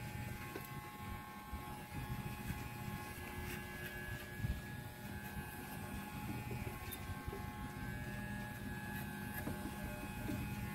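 Walmart electric hair clippers buzz faintly and continuously while cutting hair for a number two fade, a steady low motor hum with a light rasp of cutting throughout.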